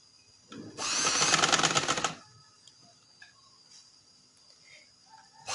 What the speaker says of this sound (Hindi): फिर थोड़ी सी आप सिलाई लगा लें।